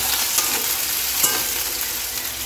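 Cut potatoes fry in hot oil in a wok, sending up a loud, dense, continuous sizzle and crackle with a few sharper spatters, close by and without voices.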